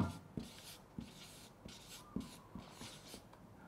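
A pen writing on paper for an advertising lesson, heard as soft scratchy strokes in short repeated bursts, close and fairly quiet, with no talking.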